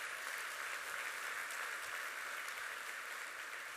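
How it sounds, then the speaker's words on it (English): Audience applause at a county State of the County address, a dense, even wash of many hands clapping throughout, steady and somewhat distant. "It does deserve applause"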